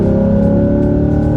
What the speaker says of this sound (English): Good hard edge growl from that V8